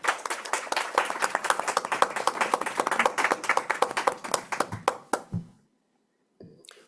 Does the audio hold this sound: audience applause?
yes